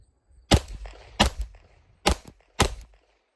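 Four 9mm pistol shots fired with Badlands Jello Shots ammunition at a range, sharp close cracks spaced unevenly about half a second to a second apart, each trailing a short echo.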